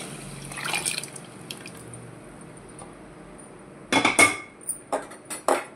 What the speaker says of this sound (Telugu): ముద్దపప్పు నీళ్ళు ఉంది కదా, ఇంత పోసేద్దాం.